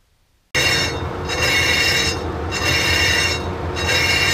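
A lathe turns at 48 RPM while a boring bar with a VNMG insert cuts a cast iron brake drum. After a brief silence, a loud grinding cut starts suddenly, with a scraping squeal that pulses at a regular rhythm and no talking.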